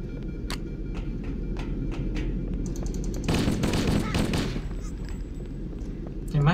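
Weapon fire in Halo: Combat Evolved, a string of sharp single shots followed by a loud burst of rapid gunfire, with game effects and voices chattering throughout.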